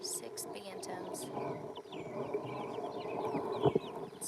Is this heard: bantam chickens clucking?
yes